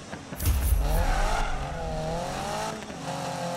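A Subaru BRZ racing in the video game Need for Speed 2015, with its engine revving hard and changing pitch through the gears, plus a brief burst of tire noise.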